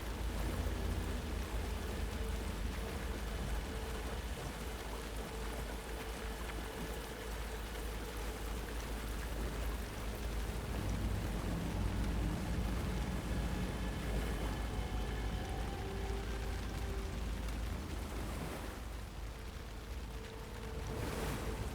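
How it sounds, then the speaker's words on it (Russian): Steady rain in the horror game Alan Wake 2, a dense, even hiss of falling water over flooded ground that runs continuously without pause, with no voices. "Хрена тут дождики идут."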